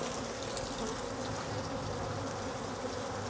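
Honeybees shaken off a brood frame fly in a dense, steady buzz that fills the air for the whole moment, loud and close, no voices over it.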